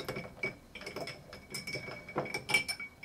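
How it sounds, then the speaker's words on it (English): A Long Island Iced Tea–style cocktail is given a brief stir in a glass, with light clinks and taps of a spoon against the glass scattered over about three seconds, close and fairly quiet. "Let's give it a brief stir."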